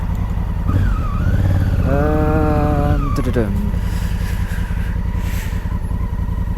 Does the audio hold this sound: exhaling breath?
no